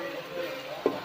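Chicken curry masala frying in a pan, a steady close sizzle with a brief stir or scrape near the end.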